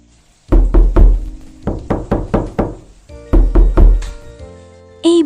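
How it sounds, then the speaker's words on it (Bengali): Loud cartoon knocking hammers on a door in three quick bursts of sharp, hollow thuds, roughly three, five and four blows, followed by one last separate knock. "এত জোরে জোরে দরজায় ধাক্কা দিচ্ছে কে?"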